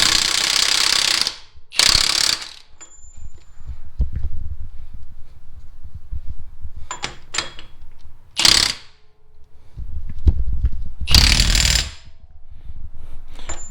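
A ratchet tightening the wheel hub nut on a Honda Pilot during front brake and wheel bearing work, in several loud, close bursts of rapid clicking separated by quiet pauses.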